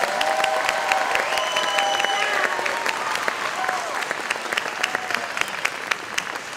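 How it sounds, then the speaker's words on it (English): An audience at a K4 and K5 school Christmas program claps for the young students. The steady, fairly quiet applause lasts the whole stretch, with a faint voice or tone threading beneath it. "Can you clap for them one more time?"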